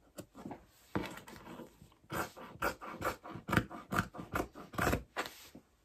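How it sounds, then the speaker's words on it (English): Close, rhythmic snipping and crunching of scissors cutting through fabric, repeated in quick bursts with short pauses between them. "Grab my scissors"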